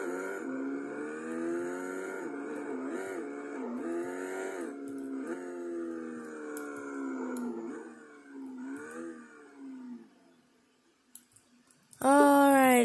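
A car engine in the video game Driving Empire hums steadily with shifting, revving pitch for about ten seconds, fades to near silence with a few clicks, then bursts back in loudly at the end.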